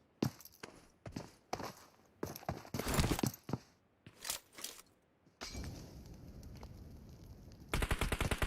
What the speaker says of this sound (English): by the noise. All the explosions.